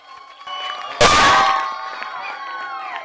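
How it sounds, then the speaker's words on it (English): An indoor audience at a school KPSEA award ceremony gives a teacher a sudden loud burst of clapping and cheering that fades within half a second into a crowd murmur. "Give Madam a clap as she comes over."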